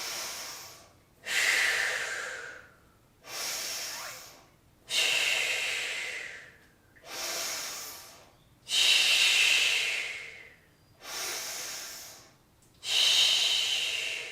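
Slow, deep breaths held through a forward spine stretch, seven airy inhale-exhale cycles in a steady rhythm, close and clear with short silent pauses between them and no talking.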